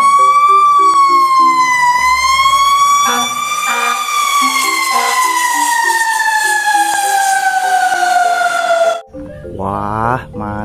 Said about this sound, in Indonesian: Di sini ada mobil pemadam kebakaran ya.